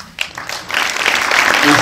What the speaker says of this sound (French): Merci beaucoup de vous applaudir.